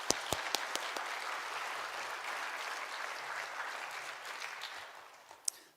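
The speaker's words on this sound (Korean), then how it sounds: "나오실 때 우레와 같은 박수로 격려해 주시기 바랍니다." Warm, sustained audience applause in a Korean church hall, filling the room steadily for several seconds as a guest pastor and creation-science lecturer comes forward, with a few sharper claps standing out near the end.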